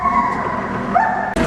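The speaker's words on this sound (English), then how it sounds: "Here come the dog yips." A dog yips amid the steady drone of farm machinery handling stored soybeans, a short whining cry sliding in pitch over the loud mechanical hum.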